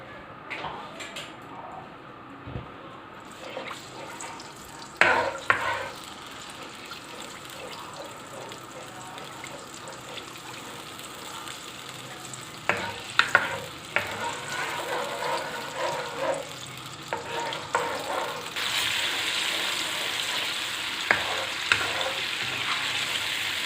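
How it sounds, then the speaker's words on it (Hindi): Ginger garlic paste sizzles and spatters in hot oil, with intermittent scraping and stirring clatter, growing louder toward the end. "ये अदरक लहसुन का पेस्ट सौते कर लिया मैंने।"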